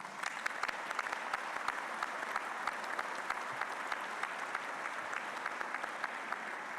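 Applause from a congress audience in a convention centre, with steady, moderately distant clapping from many hands that stays even and continuous throughout, with no voices.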